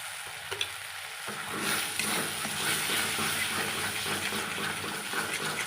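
Chili spice paste fries and is stirred in a pan, a dense close sizzle swelling after a quiet start and holding steady with faint scraping, no voices.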